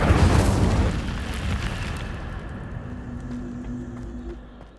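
Fire spell cast in the wizarding game Hogwarts Legacy, a loud burst of roaring flame that fades into a crackling rumble with a faint tonal hum underneath.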